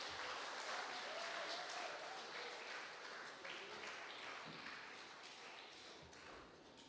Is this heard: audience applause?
yes